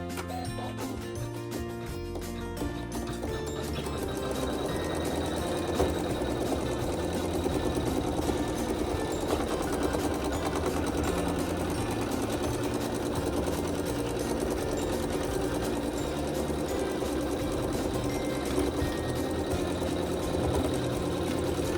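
An embroidery machine stitching tack-down stitches hums and rattles in a fast, steady mechanical rhythm, close and continuous throughout with no talking.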